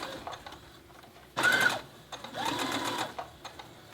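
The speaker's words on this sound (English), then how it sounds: "There is a speed button on my sewing machine" A sewing machine whirs in two short bursts of rapid stitching, close by, while sewing on a fabric appliqué, with quiet pauses between runs.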